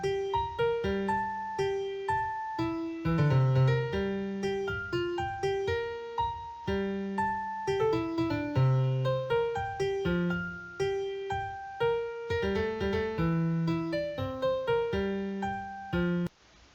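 Scales from a JFugue 5 music string, played by a Java program as a steady run of synthesized notes stepping up and down at an even tempo, with sustained tones and some chords, loud and clear with no talk.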